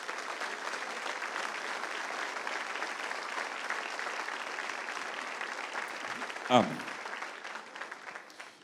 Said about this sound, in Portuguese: Dá ao Senhor a sua melhor salva de palmas.